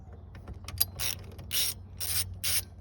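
A ratchet clicks in quick bursts while T20 bolts are loosened on the turn signal lever of a Chevrolet C10, close and fairly quiet, with several separate runs of ratcheting and no talking.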